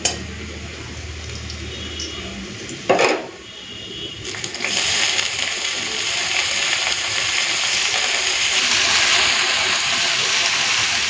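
Chopped cabbage going into a pan of fried onion and garlic, with a sudden loud hiss and splash followed by steady, continuous sizzling close by.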